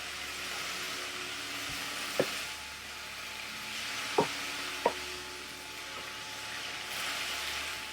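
Zucchini and tomato sauce cooking in a pot, a steady soft sizzling hiss throughout with a few faint clinks of a utensil against the pot.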